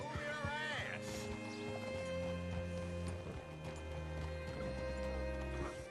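In Red Dead Redemption 2, a horse's hooves clop under a loud musical game score and voices, with the hoofbeats partly masked by the music.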